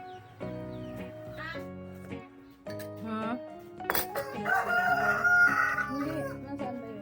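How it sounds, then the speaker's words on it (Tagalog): Several backyard roosters crow loudly and repeatedly, with chickens clucking nearby and people talking in the background. "Yung mga manok namin. Ang iingay."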